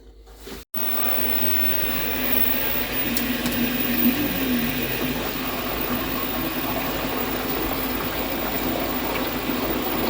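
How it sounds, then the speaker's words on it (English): An LG WM4200HWA front-load washing machine starts filling with water on a speed wash cycle, a click followed by a steady rushing flow and low pump hum that continues evenly. "Turning the water on, put it on speed wash"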